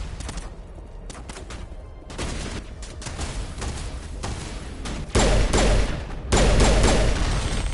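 Gunfire from a shootout in Mass Effect Legendary Edition, with bursts of rapid shots and thuds that swell near the end into loud, dense volleys.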